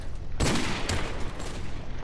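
Video game gunfire: a sharp loud burst of shots hits suddenly, followed by another quicker shot and a fading rattling tail over a quiet background.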